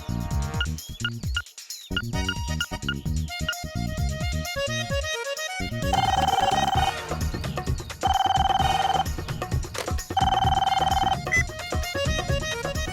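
A telephone rings in several repeated bursts, loud and close, over continuous background music.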